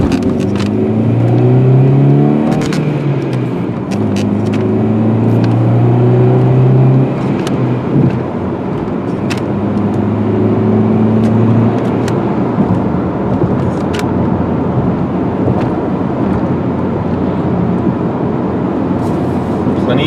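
A silver 2000 VW Jetta four-door pulling away and accelerating, engine tone climbing through several gear shifts before settling into a steady cruising drone with road and wind noise, heard from inside the cabin.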